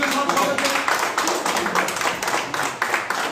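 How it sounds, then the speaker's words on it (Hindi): Dense, steady clapping fills the room at a party gathering where local leaders join the BJP, a continuous fairly close applause with no break, and voices faintly mixed in beneath. "जोरदार तालियों के साथ"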